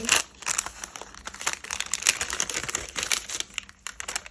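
Crinkly paper rustling and tearing as a small packet is opened, a dense run of close crackles lasting several seconds with no talking.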